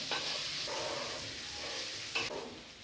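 Meat and onions fry in hot oil in a kadai, a steady close sizzle with a few stirring scrapes over a constant hiss and no talking.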